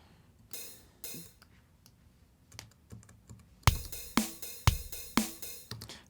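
A programmed drum beat built in Studio One, hits entering sparsely at first and then settling into a loud, repeating pattern of sharp percussive strikes with a steady pulse, heard alone without talk.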